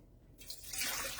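Warm tap water is poured into a container, starting after a brief quiet moment as a close, splashing, bubbly gush that builds and continues.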